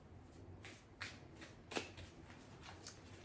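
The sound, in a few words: tarot cards being shuffled and drawn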